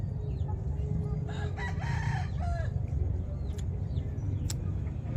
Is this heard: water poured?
no